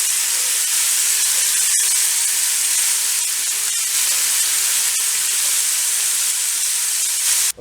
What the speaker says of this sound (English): I've got my ground beef and my sausage cooking up inside the pot